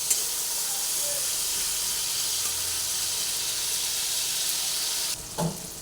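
Spice paste and chopped tomato fry together in a pan for a fish curry, giving a loud, steady, close hissing sizzle that runs throughout before a short clatter near the end.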